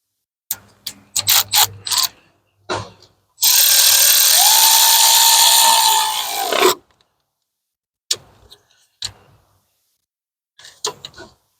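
A ratchet with a swivel and 10 mm socket works bolts on a 2016 Nissan Rogue valve cover: sharp metallic clicks in short bursts, then a long loud buzzing rasp, then sparse clicks, close and isolated.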